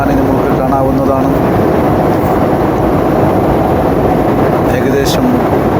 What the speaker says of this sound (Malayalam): ഏകദേശം നമ്മുടെ വിമാനം ബോംബെ മഹാനഗരത്തോട് അടുത്തുകൊണ്ടിരിക്കുന്നു.